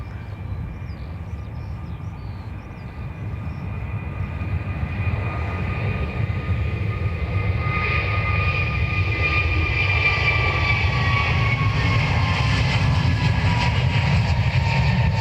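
An Aer Lingus Airbus A321neo jet at Dublin Airport roars steadily, its engine noise swelling from a moderate hum to a loud, sustained whine and rumble that stays close and alone throughout.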